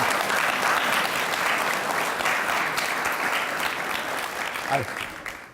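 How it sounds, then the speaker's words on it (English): Sustained applause from a large audience at a university panel event, a dense steady wash of clapping that fills the whole stretch and tapers slightly near the end. "Can I have a round of applause for our wonderful panel here today?"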